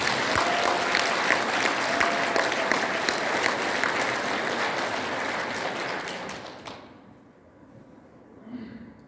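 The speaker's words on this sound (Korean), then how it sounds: "김대중 대통령에게 박수 한번 보내시고" Audience applause at a Korean Democratic Party members' education event in Daejeon, a loud, dense burst of clapping that holds steady for about six seconds and then fades quickly away.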